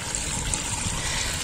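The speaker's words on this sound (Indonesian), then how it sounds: "ini airnya bagus sekali ya, seperti air terjun mini teman-teman" Water trickles down a small toy waterfall among toy animals and dinosaurs, a steady close splashing and dribbling with no voices.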